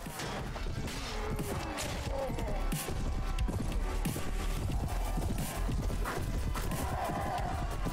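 Horses gallop across a battlefield in the Prophesy of Pendor video game, a dense, continuous drumming of hooves with crashes of combat mixed in, fairly loud throughout.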